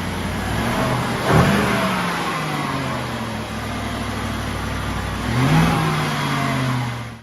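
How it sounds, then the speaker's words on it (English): An Audi SQ7 engine with an aftermarket intake revs up twice with a rising whoosh, settling into a steady mid-pitched drone between the pulls, loud and close. "This helps us get a little bit more whoosh noises from the intake"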